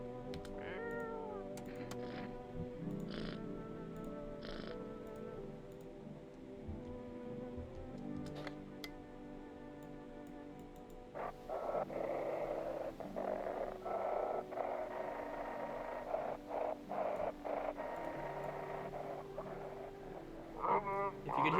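A cat in the video game No, I'm Not a Human meows several times and purrs softly, fairly close, over a steady low background hum and music-like tones.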